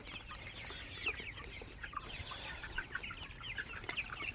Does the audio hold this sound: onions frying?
no